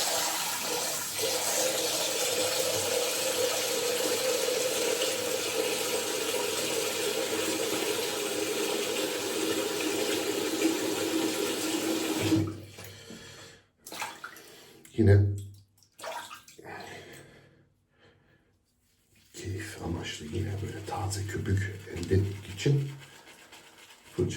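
A tap runs steadily as water is readied for a shave, a loud, continuous rushing flow for about twelve seconds, then stops, followed by splashes, handling noises and someone speaking.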